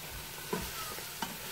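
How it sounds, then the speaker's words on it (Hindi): Carrot halwa stirred and fried in oil in a pan, with a continuous soft sizzle and two brief scraping strokes of the spoon, heard up close with no talking. "मिक्स करती जाऊँगी, इसका ऑयल अच्छी तरह से निकल आए"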